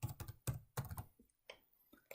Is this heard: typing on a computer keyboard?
yes